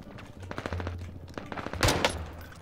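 PPSh submachine gun firing in the video game Warzone, rapid rattling bursts close and loud, with a sharper blast near the end, no talk over it.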